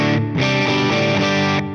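Electric guitar with humbucker pickups played through a Friedman Runt amp on its clean channel, already breaking up into dirty crunch; sustained distorted chords ring out loud and alone, with a brief dip between strums.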